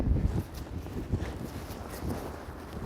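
Strong wind gusting up to 45 km/h roars and buffets the microphone outdoors at a paragliding playground, surging in uneven low-pitched bursts with no talking.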